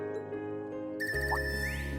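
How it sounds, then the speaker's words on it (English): A phone ringtone in the video game Trails of Cold Steel III starts abruptly and rings on with a bright, repeating electronic melody over a low hum. "I guess Hippon has the annoying ringtone."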